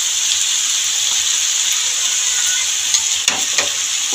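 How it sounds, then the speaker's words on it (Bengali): Bhuna chicken masala sizzling in a pan as it is stirred, a steady close frying hiss with a few scraping clicks near the end. "ভালো করে নাড়াতে থাকবো फ्रेंड्स যাতে নুনটাও সব কিছুর মধ্যে ঢুকে যায়।"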